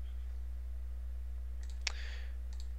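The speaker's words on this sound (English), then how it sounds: "You can rearrange them just by clicking and dragging." A computer mouse gives a couple of faint, crisp clicks while dragging, over a steady low electrical hum.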